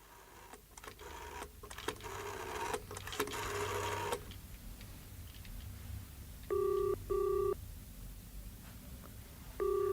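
An old British telephone ringing indoors in a thriller drama, two short loud bursts of electronic ringing after a few seconds of rustling and knocking, with a third ring starting at the end.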